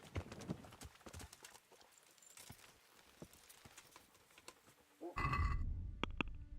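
A horse's hooves clip-clop at a walking pace in Kingdom Come: Deliverance, faint and scattered, before a louder rustling burst near the end.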